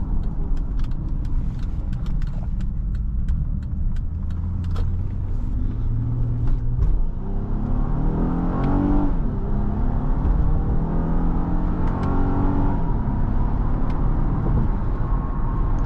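A 2013 Acura MDX Tech SH-AWD with its naturally aspirated V6 drives along, the engine droning steadily and then rising in pitch as it revs through the gears, up close and loud with no talk over it.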